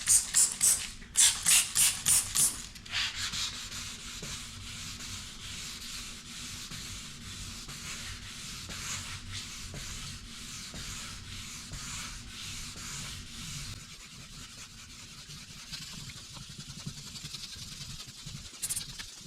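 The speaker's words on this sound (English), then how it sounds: "So this is 1500 grit wet on a rigid block." Paint is wet-sanded with 1500 grit paper on a rigid block. A few quick, rhythmic rubbing strokes come first, followed by a long stretch of steady, softer scrubbing close by.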